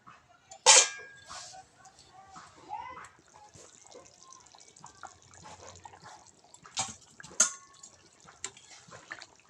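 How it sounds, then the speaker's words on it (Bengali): Water poured and splashed into a pan of cooking chicken curry: a few sharp splashy bursts near the start and later, with soft sloshing and light scraping between, while a voice is heard in the background. "জল দিয়ে এবার আমি জাল করে নেব।"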